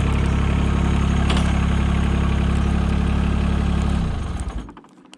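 Mahindra tractor fitted with a snowblower, steady low diesel idle running for about four seconds, then sputtering and dying away into near silence.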